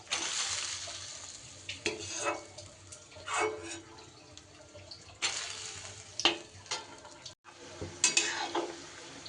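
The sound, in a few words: frying lentil batter balls in a wok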